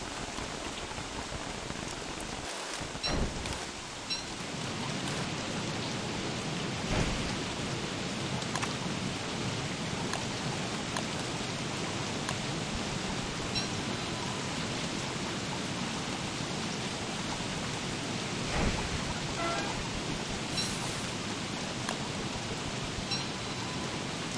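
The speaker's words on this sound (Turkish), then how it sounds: "Aa şimşek düşecek." Steady rain pours throughout in the survival game Don't Starve Together, a dense continuous hiss with a few louder gusts and distant rumbles of thunder, no voices over it.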